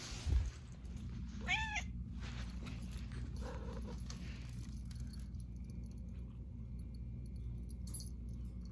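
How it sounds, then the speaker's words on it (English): A pet cat meows twice, a clear rising call and a shorter softer one a moment later, over a low background hum indoors. "say bye to my cat"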